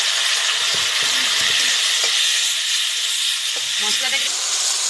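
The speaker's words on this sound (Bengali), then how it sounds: "মশলা আমার প্রায় কষানো হয়ে গেছে" Onion, ginger, chili and cumin paste with turmeric frying in a pan for a small-fish curry, giving a steady, loud sizzle and hiss with faint stirring clicks underneath, continuous throughout.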